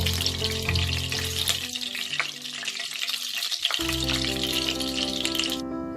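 Onions stirred and fried in hot oil in a pan make a loud, dense sizzle with occasional utensil scrapes, steady throughout and close by, with no voices.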